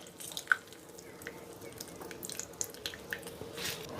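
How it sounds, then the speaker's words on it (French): Water drips and trickles as grated radishes are squeezed by hand over a bowl, giving faint, irregular drops and small splashes in a quiet kitchen with no talking. "On va venir bien presser ici nos radis à la main, on enlève l'eau"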